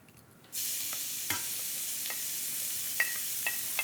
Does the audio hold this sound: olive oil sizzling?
yes